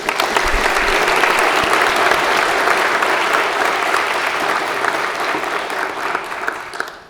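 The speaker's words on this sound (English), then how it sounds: "let's give a round of applause to Elise" A crowd at a senior awards ceremony applauds an award recipient, with loud, dense, sustained clapping that tapers off at the end.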